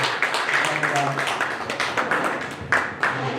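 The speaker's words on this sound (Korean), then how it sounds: "우리 뜨거운 박수로 보내드리겠습니다" A workshop audience applauds to send off a departing official at a small business network event in Jeollabuk-do, a fairly close burst of scattered hand claps, steady for a few seconds with some crowd noise.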